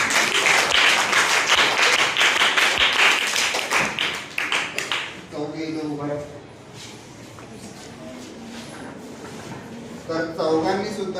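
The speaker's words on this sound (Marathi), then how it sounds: "टाळ्या वाजवायच्या" Students in a class clap for classmates who built a model of the Earth, a burst of fairly loud applause in the first half that fades out, with a voice talking over the quieter second half.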